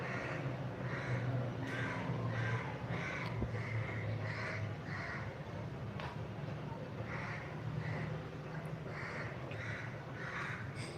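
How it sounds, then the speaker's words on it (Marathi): A crow caws repeatedly in short bursts of harsh calls, somewhat distant, over a steady low background hum. "कावळा ओरडतो हो कावळा ओरडते बाहेर"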